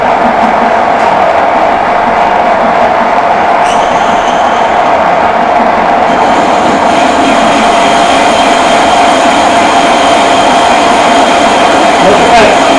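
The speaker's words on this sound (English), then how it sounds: "I apologise for the noise, but I can't part it off without." A metal lathe parts off a steel bar with a new parting tool, giving a loud, continuous, harsh grinding and whining roar. It holds steady and close for the whole stretch, with no talking.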